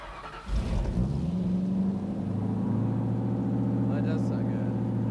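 A car engine fires up inside a garage, likely fitted with a straight-pipe exhaust, settling into a steady, close idle rumble with a slight rev after starting; faint voices in the background.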